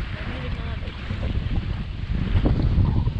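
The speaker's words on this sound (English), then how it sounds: "the water crashing into the shore" Waves wash against the shore in a steady broadband rush, building slightly louder toward the end, with wind buffeting the microphone and no voices.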